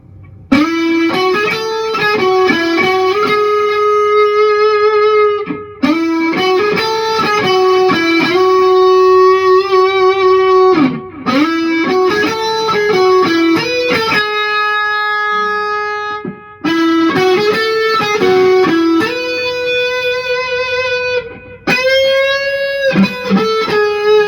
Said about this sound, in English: The main melody is also played with guitar.